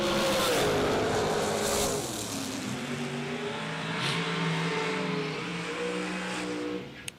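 A door-car drag racer at a motorsports event roars loudly and revs hard down the strip in a sustained engine blast, then cuts off abruptly at the end.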